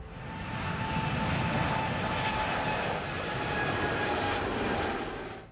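A Boeing 747-8 jet airliner passes overhead with a steady, broad engine roar and faint whine, holding level for several seconds before easing slightly at the end, with no voices.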